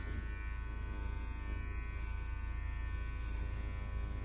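An electric beard trimmer buzzes steadily and close, a constant even drone for the whole stretch with no pauses and no speech.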